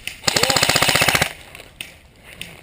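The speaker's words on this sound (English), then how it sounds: "You can hear those ricochets coming" Airsoft gunfire at an outdoor skirmish: a loud rapid burst of a dozen or so evenly spaced shots lasting about a second, then quieter scattered ticks of BBs ricocheting nearby.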